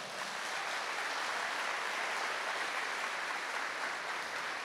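A church congregation applauds during a Catholic sermon, a steady, dense wash of clapping from a large crowd that holds at an even level throughout, with no speech over it.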